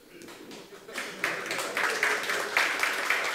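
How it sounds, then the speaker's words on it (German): Audience at a Joomla community event in Hamburg clapping: scattered claps build into a modest round of applause that keeps going, fairly close and moderately loud. "Okay, die Hamburger haben geklatscht."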